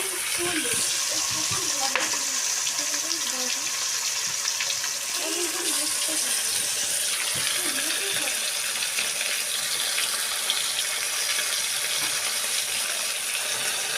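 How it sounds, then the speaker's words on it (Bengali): Thick kalbose fish frying in hot oil in a home kitchen, a steady dense sizzle and crackle running continuously and fairly close, with occasional faint clinks and stirring sounds over it. "একটু সময় লাগবে মাছটা ভাজা করতে কারণ কালবোস মাছ সবসময় একটু মোটা টাইপের মাছ"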